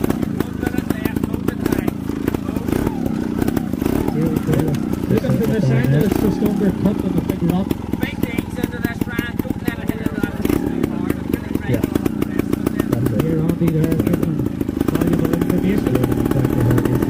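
A trial motorcycle at the Northern Ireland Super Trial 2021 labours up a steep section. Its engine revs and pops with a rapid, uneven rhythm throughout while people talk and call out over it.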